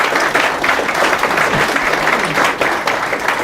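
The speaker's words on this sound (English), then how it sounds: "Let's give them a round of applause here." Loud, dense applause from a conference audience fills the whole stretch, steady clapping without pause.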